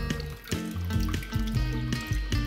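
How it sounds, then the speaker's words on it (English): Liquid drains from hot cheese curds for queso blanco as they are squeezed in a colander over a pot, a steady close trickle and dribble over background music. "Just slowly squeeze out liquid."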